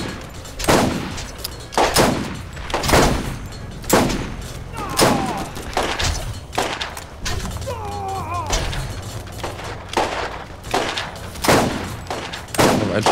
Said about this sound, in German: Da vorne ist noch ein MG.